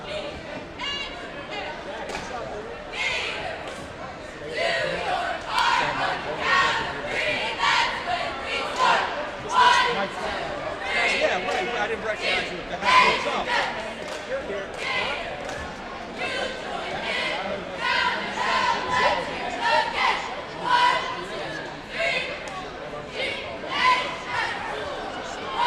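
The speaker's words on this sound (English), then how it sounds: "We'll listen to the cheer squad here for the Gators" A school cheer squad chants at a high school boys' basketball game in a busy gym, rhythmic shouted cheers over steady crowd chatter, with ball bounces and sneaker noise throughout.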